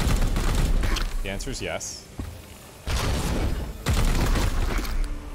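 Gunfire in Warhammer 40K: Chaos Gate - Daemonhunters, a loud burst of shots and heavy impacts mixed with game effects, with a voice speaking briefly between the volleys.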